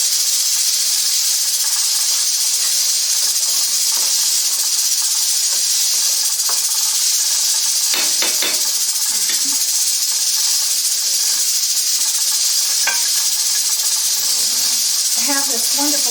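Ground beef browns in a pan as burger meat for stuffed peppers, giving a steady, loud hiss and sizzle throughout with a few brief pops and clicks, and no one talking over it.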